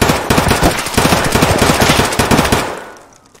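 Automatic gunfire in Escape from Tarkov cracks out in fast loud bursts, close and punchy, with a steady rapid rhythm before the shots stop and the sound decays into a fading tail.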